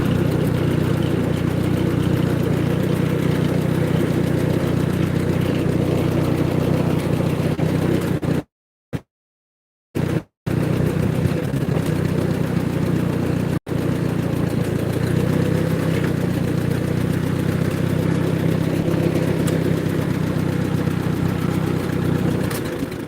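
Massey Ferguson tractor engine running steadily with a touch of throttle, a loud continuous low rumble with a couple of brief dropouts, no voices.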